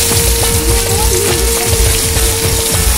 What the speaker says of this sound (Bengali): এর মধ্যে এবার দিয়ে দেবো পেঁয়াজ কাটা